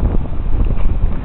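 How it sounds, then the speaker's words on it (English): Strong wind buffets the microphone at Ewa Beach, a constant low rumbling roar through the whole short moment, heard close with no other clear sounds. "It's really windy"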